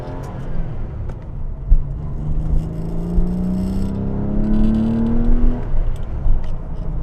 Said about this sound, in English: An engine that has such a deep tone to it without being droney at all.